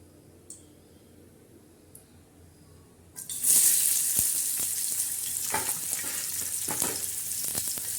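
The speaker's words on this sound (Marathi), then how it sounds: "आता तव्यावर प्रथम आपण कांदा टाकणार आहोत भाजायला." Onion hitting a hot tawa griddle for roasting: after a few quiet seconds with light taps, a sudden loud sizzle bursts in and settles into a steady close crackle, broken by scraping stirs.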